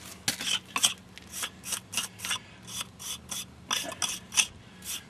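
A steel trowel scraping and striking the mortar joints of a brick mailbox, a steady series of short gritty rasps repeated about three times a second, close and alone.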